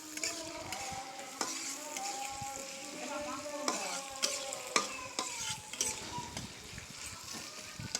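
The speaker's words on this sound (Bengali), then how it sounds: "তারপর আস্তে আস্তে করে নাড়াতে হবে।" Chillies and onions fry in white oil in a wok, sizzling steadily while a utensil stirs them, with scattered metallic scrapes and clinks against the pan at close range.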